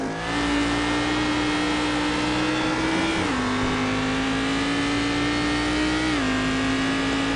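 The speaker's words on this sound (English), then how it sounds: "I was on board and this car is so loud." A loud race car engine heard on board during a lap at Phillip Island, droning at high revs with brief dips as gears shift, continuous and close.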